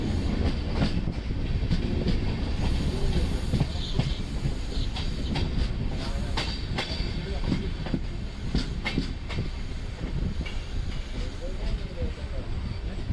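The Dhanbad Express runs on rails between Alappuzha and Ernakulam, giving a loud, continuous rumble with repeated clattering wheel beats and sharp metallic clicks heard from on board.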